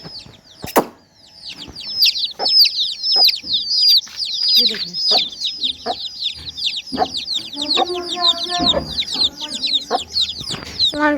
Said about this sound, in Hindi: मगर देखें जी मुर्गी है, ये चूजे